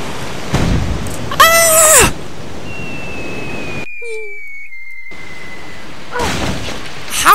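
Booming cannon blasts in RuneScape with whooshing and rumbling noise, a brief sudden cutout midway, then another burst near the end.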